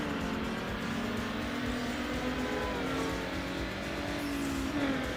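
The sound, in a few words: car engine in video game Need for Speed Underground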